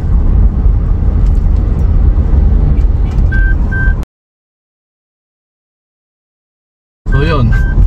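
A Toyota Fortuner's lane departure warning sounds over road noise inside the moving SUV, a few short electronic beeps in pairs near the end of each driving stretch, with a gap of silence between.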